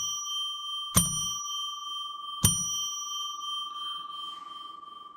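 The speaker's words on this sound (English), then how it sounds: "begins by ringing a bell 3 times to declare sacred space" A small bell is rung to declare sacred space during a live psychic radio show, each clear, bright strike followed by a long sustained ring that overlaps the next, heard alone and close.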